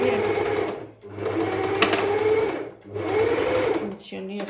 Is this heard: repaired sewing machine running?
yes